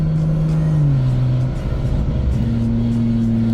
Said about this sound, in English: that Mustang sounds crazy